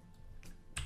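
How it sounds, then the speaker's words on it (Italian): A few quick, faint keystrokes on a computer keyboard as a web address is typed into Tor Browser to check its setup, soft clicks that end in one slightly louder tap. "digitando questa URL"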